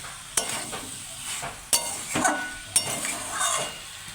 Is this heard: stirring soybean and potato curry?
yes